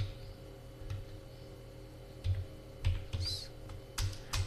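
Keys on a computer keyboard are pressed during data entry in accounting software, a few scattered soft clicks and taps over quiet room hiss, with short pauses between keystrokes.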